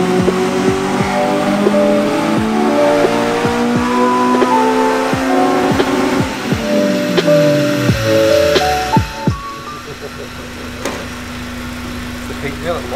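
A Honda Civic EP3 fitted with a Tegiwa exhaust revs hard on a dyno, its engine climbing through repeated rising pulls with sharp gear-change breaks, loud and close, then dropping to a steady idle.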